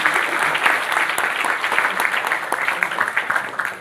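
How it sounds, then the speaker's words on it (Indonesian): Audience applause at an Indonesian book discussion event, a steady dense wash of many hands clapping, sustained and fairly loud throughout with no voices over it. "Kita berikan aplaus sekali lagi untuk"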